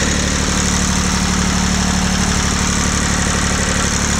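A Ford 1710 tractor engine runs at a steady idle, a loud, constant low rumble with an even mechanical drone and no variation in pace throughout.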